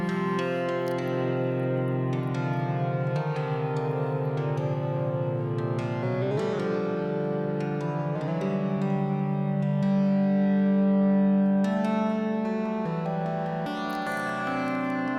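Mutable Instruments Marbles modular synth playing a continuous melodic sequence of sustained, overlapping tones, washed in reverb and effects, loud and steady throughout with no talking.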